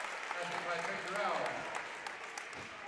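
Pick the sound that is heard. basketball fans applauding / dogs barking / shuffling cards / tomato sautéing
basketball fans applauding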